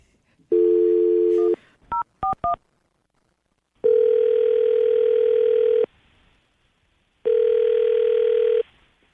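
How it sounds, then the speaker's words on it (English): Telephone call being placed on a radio show: a dial tone, a rapid run of keypad dialing beeps, then two long ringback tones separated by silence, loud and close with no talking. "We're going to call her right now"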